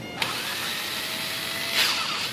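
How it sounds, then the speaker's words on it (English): An old, worn electric drill runs steadily and close by, whining at a constant pitch with a brief click at the start and a slight swell near the end, and no voices. "So I got this old crappy drill."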